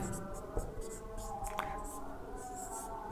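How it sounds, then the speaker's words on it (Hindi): Chalk or marker scratching across a board during a geography lesson on the India–Pakistan border, soft intermittent strokes under a faint murmuring voice and room hum. "मैं लिखता चलता हूं एक साइड"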